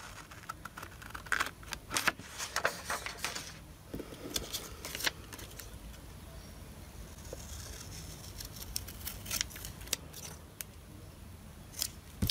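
Scissors snip through spare book pages in quick irregular bursts of crisp, close cuts with short pauses between, no talking.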